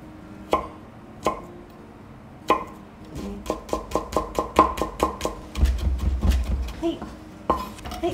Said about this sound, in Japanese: ニンニクは芯を取ってみじん切りにしていきます。